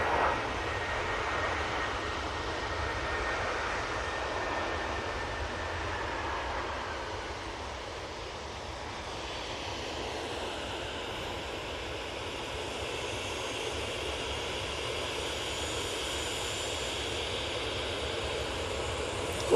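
A jet airliner landing at Manchester Airport produces a long, steady roar of engines heard from a distance, a broad even rumble that shifts gradually in tone as the aircraft rolls past.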